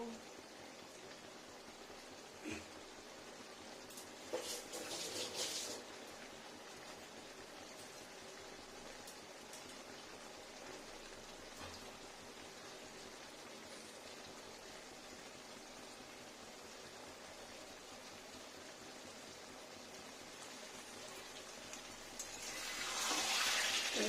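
Taro curry simmers in a pot with a soft, steady bubbling hiss that stays faint throughout, then swells a little louder near the end.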